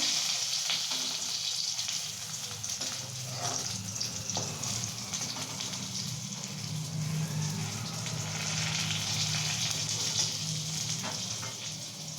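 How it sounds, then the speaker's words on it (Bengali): Steady sizzle of eggplant slices frying in oil in a pan, being turned over, a continuous crackling hiss that fills the clip with no talk. "বেগুনটা উলট পালট করে কিরমভাবে মা ভেজে নিচ্ছে"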